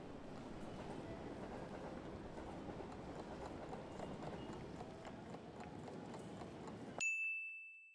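Busy train station ambience: a quiet, steady murmur of clattering, rolling movement and distant bustle runs throughout, then stops abruptly and a sharp, clear chime rings out and lingers.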